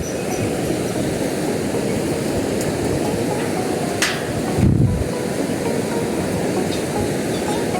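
River water rushing beneath a village bridge after light rain, a steady broadband roar that holds throughout, with a brief louder low rumble near the middle.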